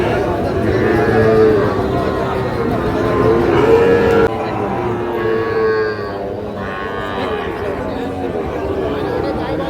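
A Sahiwal bull calf at a cattle market lets out drawn-out moos, with a second call later, amid crowd chatter and people talking close by.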